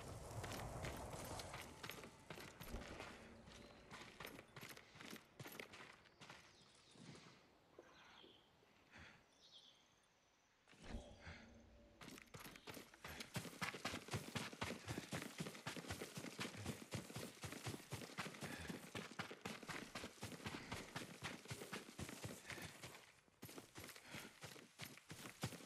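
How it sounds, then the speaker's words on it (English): Hooves clip-clop in a quick, steady rhythm, fading briefly before a horse resumes trotting closer and louder, with faint birdsong in the background, in the video game Ghost of Tsushima. "Yuriko's horse. She can't be far."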